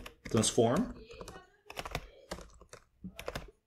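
Computer keyboard typing during a JavaScript coding session: short clusters of key clicks fall between stretches of someone talking, fairly close and moderately loud.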